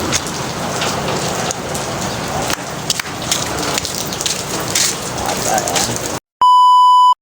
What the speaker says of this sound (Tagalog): medyo malakas ang ulan ngayon